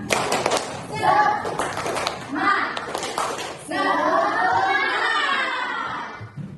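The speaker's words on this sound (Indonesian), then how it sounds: "Ayo, tepuk semangat" A classroom of children does rhythmic spirit clapping in quick patterned bursts, then their voices rise in loud chanting and shouting that carries to the end.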